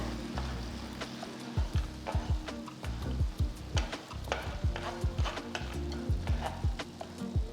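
Eggs with beetroot stirred and scrambled in a hot pan over a raised flame, steady sizzling under repeated scraping strokes of a spatula against the pan, close and continuous.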